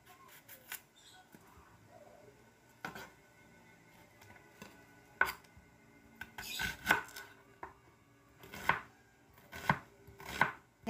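Knife chopping onions on a board in a home kitchen, with bursts of quick, close, crisp taps separated by pauses.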